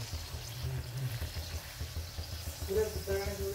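Puris deep-frying in hot oil, a steady low bubbling sizzle that runs throughout with occasional soft clinks, fairly close and moderately loud.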